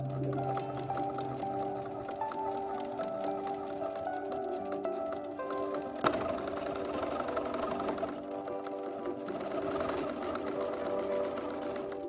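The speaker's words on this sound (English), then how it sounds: "pin it, and then sew down 5/8 of an inch." A sewing machine stitches a 5/8-inch seam through pinned fabric for a Simplicity S3094 pattern, a steady close mechanical whirr with a rapid needle rhythm running continuously, loud and alone without talk.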